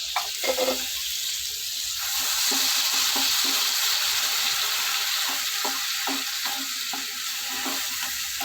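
Crushed onion frying in a pan for a prawn gongura curry, steady hissing sizzle throughout with repeated soft scraping stirs at an uneven rhythm, close and moderately loud.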